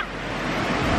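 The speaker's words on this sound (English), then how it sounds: "It's literally so loud because of the waterfall" A waterfall on a hiking trail roars as a loud, dense, steady wash of noise close by, filling the whole short stretch with no other sound standing out.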